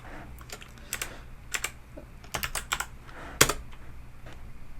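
Typing on a computer keyboard while entering Python code, with irregular bursts of close, crisp key clicks and brief pauses between runs of keystrokes.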